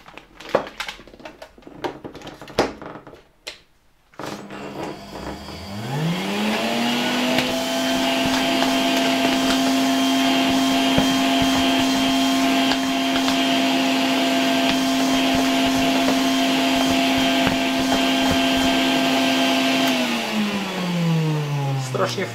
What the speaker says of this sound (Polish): jeszcze przy pomocy mojej Alfy K2 odrobinę go odkurzę